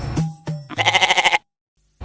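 A goat bleats several times up close: two short calls, then a longer wavering, trembling bleat, followed by a pause, with no talk.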